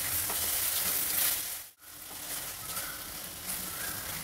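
Tamarind gojju for chitranna frying in a pan, a steady hissing sizzle that briefly cuts out to near silence and then resumes, with no talking.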